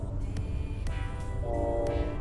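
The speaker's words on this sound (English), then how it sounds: "Hear the train?" A train rumbles along in the distance, heard from a ridge-line hiking trail at Giuffrida Park in fall, with a steady low roar and faint rhythmic clacking, a tonal horn-like hum rising near the end.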